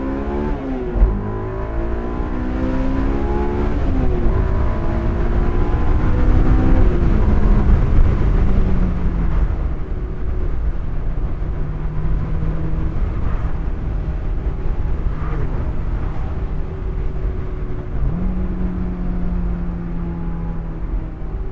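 A Honda S2000 AP1 sports car's engine revs hard while driven, climbing sharply through the gears with rising whine, then easing to a lower steady drone with brief shifts and another rise near the end, loud and close from inside the cabin.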